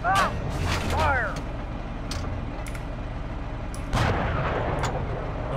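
A tank main gun fires in the Steel Beasts combat simulator, a heavy low boom rising over a steady engine and vehicle rumble, with brief voice bursts early on.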